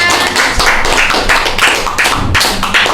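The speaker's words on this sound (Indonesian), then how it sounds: "Boleh tepuk tangan dong ya." Dense, continuous clapping from a crowd, steady and fairly loud throughout, with a few sharper claps standing out.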